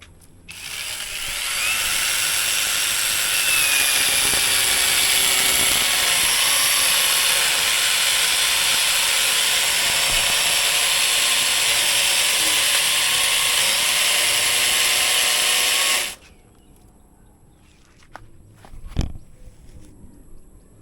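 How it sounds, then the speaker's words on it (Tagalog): A loud, steady mechanical roar of a chainsaw at full throttle runs for about fifteen seconds close by, then cuts off, leaving quieter rustling and a few knocks. "Chainsaw."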